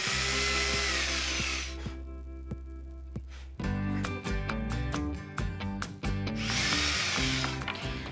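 A power drill bores holes through a wood shelf piece, loud bursts of high whirring alternating with pauses and clunky handling knocks, close up with no talking.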